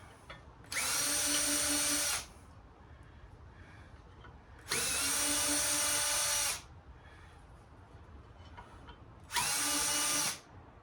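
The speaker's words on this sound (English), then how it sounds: "So you just want to take the screws out." Power drill spinning out screws from a vintage Craftsman radial arm saw: three loud, steady whirring bursts of about one and a half seconds each, separated by quiet pauses, with no talking.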